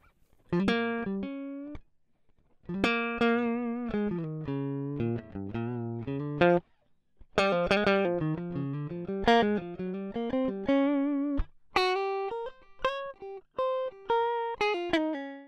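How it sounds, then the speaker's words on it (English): A clean, dry electric guitar direct signal with the amp plugin switched off plays a melodic line of single notes and short phrases, with brief pauses between runs. "if I turn the plugin off on the channel strip, you'll hear just the direct signal"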